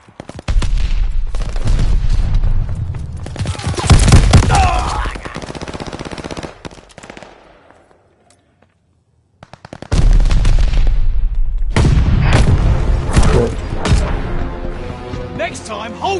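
Video game battle soundtrack with a grenade blast and dense gunfire, loud and sustained. A brief near-silent gap splits two stretches of heavy firing, with shouted voices over the combat.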